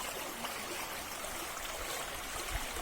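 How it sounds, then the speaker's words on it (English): Water streams steadily beneath a bridge on a woodland walk in Scotland, a soft continuous rushing murmur with faint trickles, moderately quiet and unbroken, with no voices. "The water going under this bridge almost sounds like people talking, murmuring."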